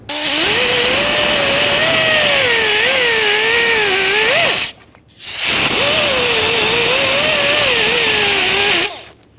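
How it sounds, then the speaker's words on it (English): A power-driven wire wheel scrubs rust from the threaded stud of a shock absorber on a 1998-2011 Ford Ranger, a loud whining grind in two long bursts with wavering pitch and a short pause between them. "go ahead and use a wire wheel to try to clean this up so we can remove the mounting nut with ease"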